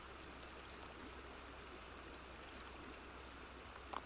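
Running water from a sink as a character washes hands in the video game Animal Crossing, a faint, steady hissing stream with no voices over it.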